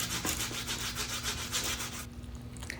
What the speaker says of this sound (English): Using a box grater, we're going to grate on the small side